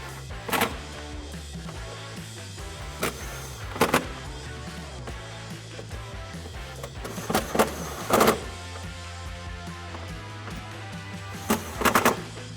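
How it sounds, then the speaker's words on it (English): Bolts near the cold air inlet of a 2019-2022 RAM 1500 5.7L being tightened with an 11mm socket, a run of sharp ratchet clicks and metallic bursts recurring over a low steady engine-bay hum, close to the mic. "we're gonna tighten these up. These 4 bolts here near the cold air inlet they need an 11mm socket."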